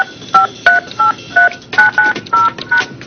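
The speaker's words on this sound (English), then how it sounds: "I'm going to put in the number of the cell phone" Cell phone number being dialed on a telephone keypad: a run of about ten short, evenly spaced DTMF beeps, loud and close, each a clean two-tone chirp with brief gaps and no talking.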